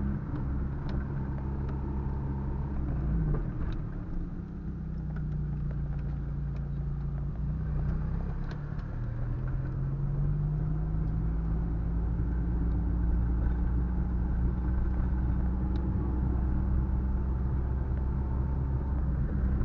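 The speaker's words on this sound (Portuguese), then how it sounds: "Se acelera, o bicho velho faz um barulho de turbina" An old car's engine rumbles loudly and steadily from inside the cabin, rising in pitch as it accelerates with a whining, turbine-like note through a drive around the Águas Claras neighbourhood of Brusque, Santa Catarina.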